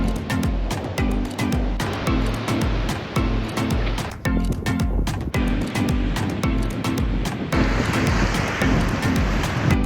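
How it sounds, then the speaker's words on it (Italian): Sea waves and gusting wind on a Danish beach beside the dunes make a loud, continuous roar with rushing surf and buffeting gusts close to the microphone. "È impressionante il mare,"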